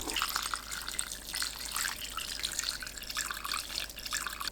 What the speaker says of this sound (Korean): 따뜻하게 식은 장아찌물을 머위순 위에 부어주세요.